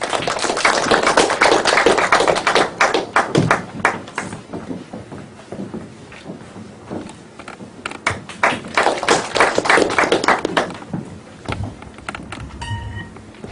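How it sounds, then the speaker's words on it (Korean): An audience at a poetry recital event breaks into dense applause to welcome a reciter. Two strong waves of clapping are separated by a quieter stretch, and the sound fades near the end. "박수로 맞이해 주시기 바랍니다."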